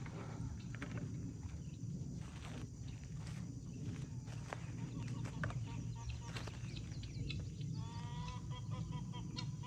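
Farm chickens cluck softly in the background while footsteps crunch nearby in an uneven rhythm, with faint scattered calls throughout and no talk.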